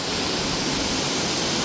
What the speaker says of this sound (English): this is the back area of that large waterfall you just saw in front